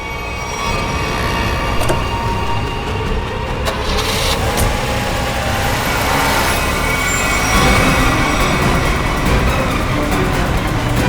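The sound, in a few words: car being driven out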